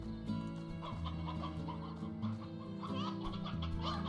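Briar hens in the Slime Rancher video game cluck repeatedly over a steady synthesized musical backdrop, the short fowl calls recurring in quick succession at moderate loudness with no talking.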